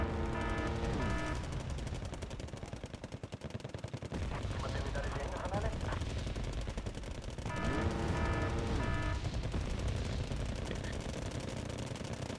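Heavy artillery and gunfire in a war video game, a steady dense barrage of rapid rattling shots and booms that continues without pause.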